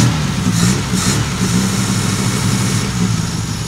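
A Lancia car engine idles steadily after a cold start following months unused, giving a close, continuous, slightly rough hum.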